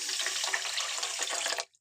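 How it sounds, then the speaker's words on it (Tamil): A cup of water is poured onto sugar in a pan to make syrup for coconut burfi, a close, steady splashing pour lasting under two seconds before stopping abruptly. "1 கப் தண்ணி ஊற்றி இப்போ நான் பாகு காய்ச்சறேன்."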